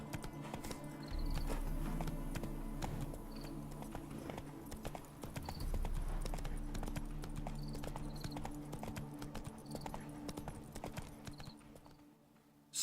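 Roach the horse galloping in The Witcher 3, hooves clip-clopping in a steady rapid rhythm close by, running continuously beneath game ambience and music, then dropping away near the end.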